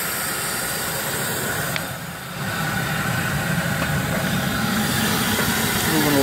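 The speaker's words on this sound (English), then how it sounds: "Got the blower all hooked up here. You can probably hear it." A blower runs on a live steam boiler, making a steady, loud rushing hiss of moving air with a low engine-like rumble, continuous and close without any talk.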